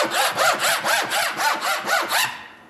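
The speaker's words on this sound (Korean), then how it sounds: "굉장히 시끄럽기도 하지만 이렇게 긁으면 필름만 벗겨지죠" A car key scraped hard across the textured, film-coated surface of a travel suitcase in about nine quick, rhythmic rasping strokes, close and loud, then stopping abruptly.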